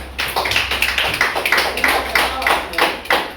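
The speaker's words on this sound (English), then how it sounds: "give her a round of applause" A small group at a parent education session claps steadily for a few seconds welcoming a speaker, close and moderately loud, with a faint low hum underneath.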